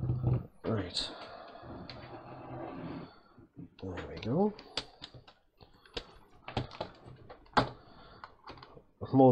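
Uneven bursts of clicking from typing on a computer keyboard connected to an Atari 1088XEL Mini-ITX board during power-on testing, heard close up as people talk over it.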